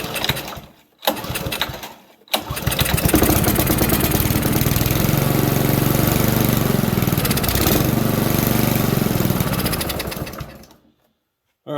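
A Honda Harmony 215 lawn tractor engine sputters through two brief tries, then catches and runs with a loud, busy mid-pitched drone before abruptly dying out.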